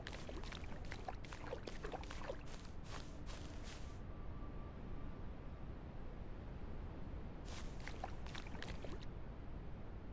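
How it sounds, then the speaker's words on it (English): Water being drunk in the tribal survival game Native Hunter, a soft steady pouring and gulping wash with bursts of gurgling near the start and again toward the end, faint and without talk. "Let's drink some water, apparently, because I clicked on that."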